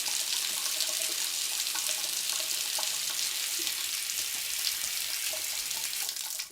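Water rushes steadily from a residential hot water heater, a loud, continuous hiss that carries on without pause and cuts off sharply at the end.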